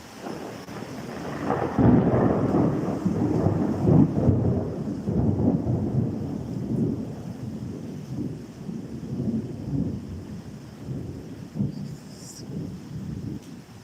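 Steady heavy rain from a passing storm pours throughout, with a deep rumbling wash of thunder and wind underneath, loud and continuous.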